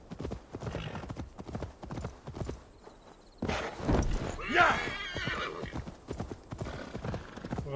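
Horse hooves clip-clop at a riding pace in Assassin's Creed Valhalla, a steady rhythmic beat that sits under game music, a whinny and someone talking.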